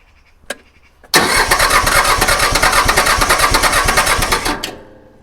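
Iseki tiny tractor engine, overheating, cranking hard in a long steady run of rapid rhythmic pulses after one brief click, loud and close, then cutting off without catching.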